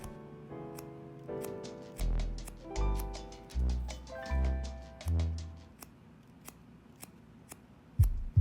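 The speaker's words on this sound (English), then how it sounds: "The top, we're gonna do it with scissors." Scissors point cutting hair on top of the head, a series of close, crisp snips and metallic clicks in an uneven rhythm, with quiet pauses between the bursts.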